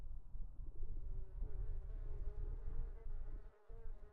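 Steady buzzing of bees in a video game, a continuous low insect drone that stays fairly faint and even throughout, with no speech over it.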